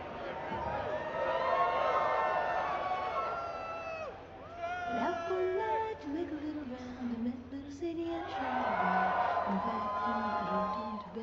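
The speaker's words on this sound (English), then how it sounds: "On the Ellie reveal, you get this big cheer." A large crowd at a video game reveal press conference for The Last of Us Part II cheers and whoops in loud rising waves, voices swelling, dipping briefly, then surging again.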